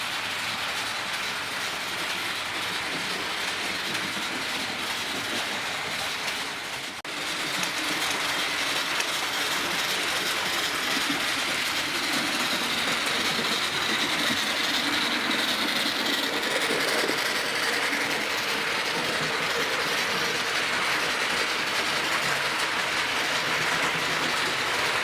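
A Hornby model train with a sound decoder runs steadily with a continuous rumbling, rhythmic clatter of wheels on track, close and fairly loud, with a brief dip near seven seconds.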